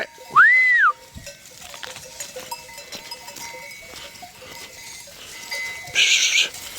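Distant bleating from a flock of sheep, with a couple of sharper calls standing out over soft outdoor background noise.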